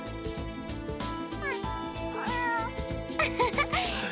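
A cat meows repeatedly in the video game Trails to Azure, several rising, wavering cries heard over game music, growing louder and more insistent near the end.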